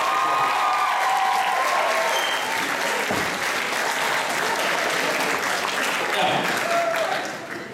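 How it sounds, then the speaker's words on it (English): Sustained applause from a school assembly audience during a Year 11 leavers' assembly, steady and dense for several seconds and tapering off at the end, with a few voices mixed in. "Big round of applause to Mr."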